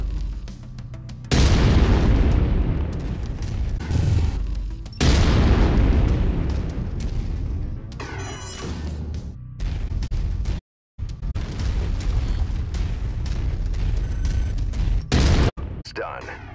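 Heavy mech weapons fire and booming explosions in the MechWarrior 5 video game, with loud repeated blasts, crackling bursts and brief pauses between barrages.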